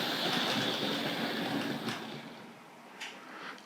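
An 00 gauge electric model train runs on a layout track, its motor hum and wheel rumble loud at first and then fading, with a couple of faint clicks near the end.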